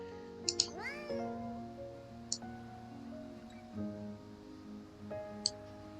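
Cat meowing in the video game Behind the Frame, a single rising-falling meow near the start followed by soft ticks and sparse ambient musical tones, quiet and alone.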